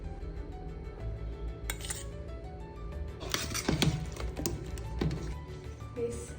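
A spoon stirring Kerala-style mango pickle in a metal vessel, with repeated close scraping and clinking strokes that come in irregular bursts over steady background hum.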